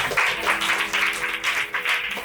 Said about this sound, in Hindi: जोरदार तालियां हो जाएंगे स्वागत कीजिए।